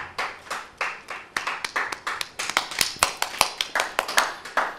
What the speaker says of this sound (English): A round of applause for X Bench